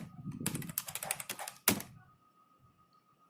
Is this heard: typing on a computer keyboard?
yes